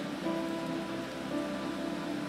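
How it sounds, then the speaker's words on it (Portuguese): Steady rain drumming on a roof, a dense, even patter that holds without a break from start to finish, close and fairly loud, with no voices. "Está chovendo para todo lado hoje."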